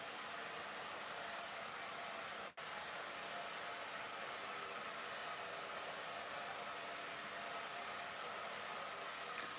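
A hair dryer runs steadily for the whole stretch as an even, broadband whoosh at moderate level. One brief dropout interrupts it near the start, and no voices are heard.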